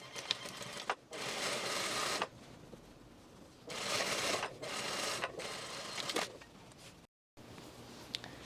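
A sewing machine stitches the center front rise seam of a pair of pants, backstitching at each end, running in three long loud bursts with short pauses and a brief silent gap between them.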